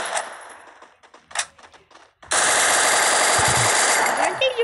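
Video game gunfire: scattered single shots give way to a loud, sustained burst of rapid automatic fire that dominates the second half.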